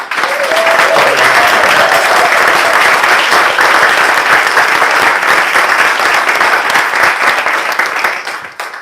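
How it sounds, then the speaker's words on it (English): A strong, dense round of audience applause for Walt and friends at a community gathering, loud and continuous for several seconds before tapering off at the end. "have a strong round of applause for Walt and friends"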